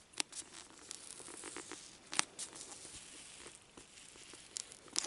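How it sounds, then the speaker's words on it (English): A sticker is peeled off a book cover, with sharp tearing and crinkling bursts and a louder rip partway through. The sound is close and fairly quiet, and no one speaks. "it's a sticker that doesn't want to peel off"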